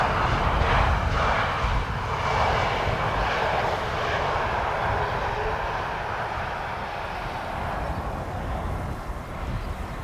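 Airliner landing at Amsterdam Schiphol, a loud continuous jet roar close by that holds strong at first and slowly fades toward the end, with no voices over it.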